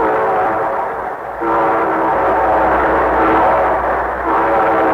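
A loud, sustained train horn blares continuously with a low rumble beneath, dipping briefly before swelling again.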